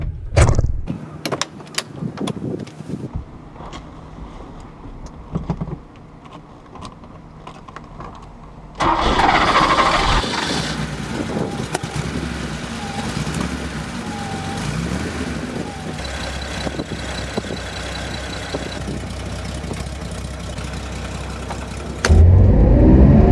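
A Porsche 2.7 Carrera engine cranks after a few seconds of clicks and handling noises, then fires and settles into a steady, loud idle close by.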